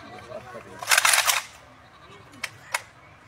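Guards firing guns on command: a loud burst of shots near the one-second mark, then two sharp single cracks later, over a quiet background with faint murmuring.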